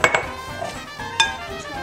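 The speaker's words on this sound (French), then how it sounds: "Après, on va le mélanger avec une cuillère, Léa." Spoon clinks and scrapes against a bowl as sliced apples are stirred with brown sugar for a homemade apple crisp, a few sharp taps amid soft mixing.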